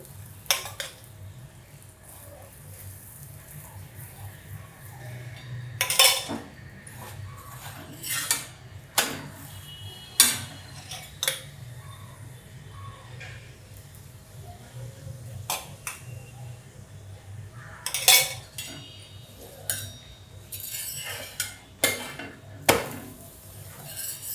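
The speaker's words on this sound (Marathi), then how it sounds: "मी लाटून घेते सगळे असे पलटी करते" Spinach paratha being rolled out and flipped on a pan brings scattered knocks and clatters of a rolling pin and utensils against the pan, irregular and close, over a quiet background.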